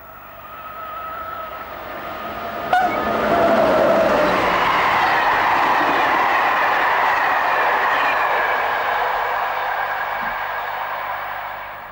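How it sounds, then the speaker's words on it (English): A train bound north for Charleville passes on a sparsely served line, its broad rumble swelling after a sharp click near three seconds, holding steady and close, then slowly fading away; no voices. "Here 15002 heads north towards Charleville."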